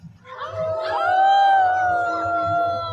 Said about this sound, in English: let's hear howling wolves